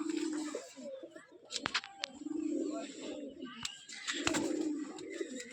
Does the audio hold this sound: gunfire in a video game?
no